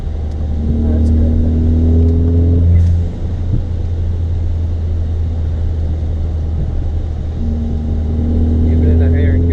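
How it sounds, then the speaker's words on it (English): A Ford Fiesta ST running an E30 ethanol blend drives along a windy road, its engine droning steadily close up with a loud low cabin rumble and rising revs, while people talk over it. "they hear that blow-off valve, they're gone"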